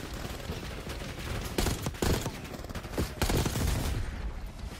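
Dense bursts of gunfire in Call of Duty Black Ops 6 on PS5, loud and continuous with several sharp volleys over a constant battle din, no talking.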